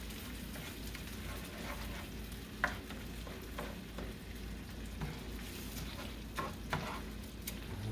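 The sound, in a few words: jasmine rice frying and being stirred in a pan with chorizo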